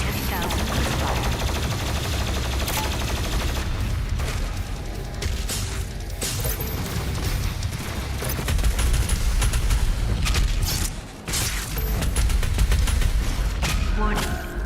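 In DOOM Eternal, the BFG 10,000 fires as a dense, continuous barrage of heavy booms and crackling blasts that stays loud and nearly unbroken throughout.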